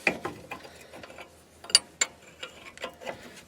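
Box-end wrench ratcheting and clanking on 18 mm bolts on the front end of a 2004 Ford Crown Victoria during a 3-inch lift install, a quiet run of scattered metallic clicks and taps with a sharper clank near the middle.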